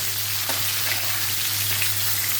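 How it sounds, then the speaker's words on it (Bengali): Potatoes frying in oil in a home kitchen, a loud, even, unbroken sizzle with a steady low hum beneath, no one speaking. "এখন হচ্ছে আলুটা একটু ভেজে তুলে রাখবো।"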